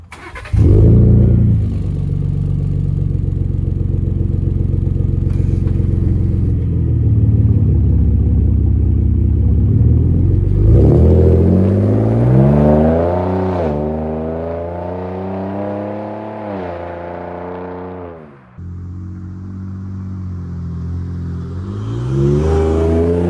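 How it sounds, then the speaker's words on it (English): A 2020 Ford Raptor pickup's exhaust revs up loudly and close by, with a deep idle, then a rising, roaring climb of revs in the middle before it settles and revs again at the end. "So as you heard and saw, the exhaust."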